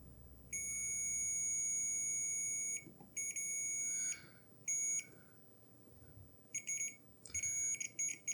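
A multimeter continuity tester touches the contacts of a game cartridge that were cleaned with Deoxit. It gives loud, high-pitched beeps: first a long held tone, then shorter broken bursts as contact is made and lost.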